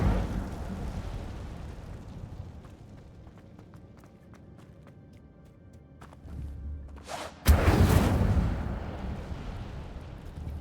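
Incendio fire spell cast in Hogwarts Legacy, a sudden loud whooshing burst of flame that roars for a couple of seconds after a quieter stretch of ambient game sound.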